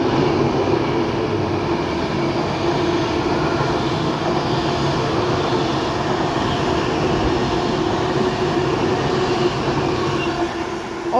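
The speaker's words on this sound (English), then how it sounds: "passing through now is 390 121 doing a service from Liverpool Lime Street to London Euston" A Class 390 electric passenger train, unit 390 121, runs through Rugby on the West Coast Main Line, a steady loud rumble and rail roar held for the whole stretch with no voices.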